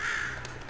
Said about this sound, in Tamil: அண்டங்காக்கா ஆர் ஒன்லி காக்கா?